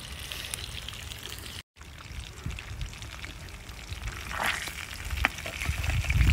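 Hilsa fish frying in a pan on a wood-fired stove in a backyard garden, a steady soft sizzle with faint crackles and a brief cut near the start, no talk.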